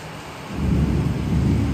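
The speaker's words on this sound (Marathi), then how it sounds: "आता जोरात पाऊस आहे आज" Heavy afternoon downpour with thunder: a constant hiss of rain, joined after half a second by a deep rolling rumble that swells and holds.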